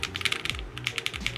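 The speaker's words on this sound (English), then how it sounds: "Now this keyboard is very low profile and has a really nice solid typing feel." Quick bursts of keystrokes on a low-profile keyboard with lubed switches, crisp muted clicks in an uneven typing rhythm, heard close and alone over a faint low hum.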